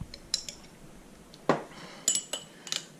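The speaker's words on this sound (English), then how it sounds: "Then you just stir it up." A spoon clinks and scrapes against a bowl while stirring spicy cocktail sauce of horseradish, ketchup and sriracha, a few light metallic taps and swirls close up in a quiet kitchen.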